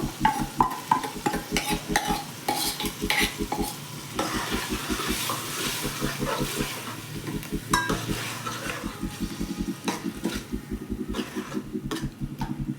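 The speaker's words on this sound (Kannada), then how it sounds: "ಈ ಮಸಾಲೆನ ಹಾಕ್ಕೊಂಡು 1-2 ನಿಮಿಷ ಚೆನ್ನಾಗಿ ಎಣ್ಣೆಯಲ್ಲಿ ಫ್ರೈ ಮಾಡ್ಕೋಬೇಕು" Ground spicy onion masala fries in oil for a sambar of sprouted green gram and chickpeas, with quick rhythmic spatula scrapes close by over a continuous sizzle and no voices.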